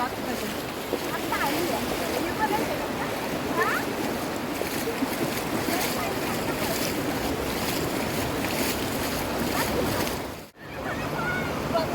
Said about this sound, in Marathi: अथांग मोठा सागर.